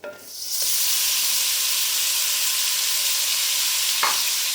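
Minced beef sizzles loudly in a hot pan, a steady crackling hiss that starts abruptly and continues close by.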